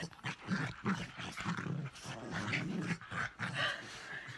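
A dog growls and yips excitedly at close range in a home, in repeated playful bursts with short gaps between them and no talk.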